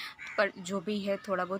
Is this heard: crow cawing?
yes